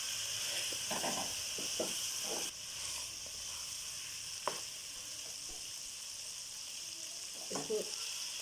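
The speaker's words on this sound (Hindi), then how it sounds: "इसको अच्छे से भून लेंगे मसाले में चिकन को।" Chicken fries in spice masala with desi ghee for a chicken makhni handi, a steady close sizzle with occasional soft stirring knocks and scrapes.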